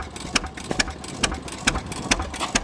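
A sawmill engine running on governor throttle chugs with an uneven beat, its firing pulses coming in quick regular bursts against a steady rumbling background.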